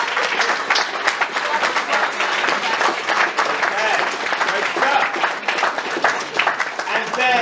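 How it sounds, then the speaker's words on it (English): A school assembly audience gives sustained, dense applause for students standing up to be recognised, steady and loud throughout, with some voices mixed into the clapping. "If you could stand up and receive your applause, very well done."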